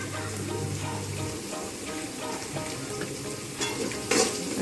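Potatoes fry in a pan with turmeric and salt, a steady close sizzle mixed with stirring scrapes and occasional clinks, with no one speaking.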